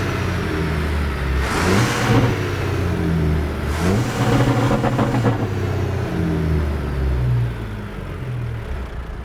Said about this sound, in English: It definitely hits off its rev limiter there quite easily.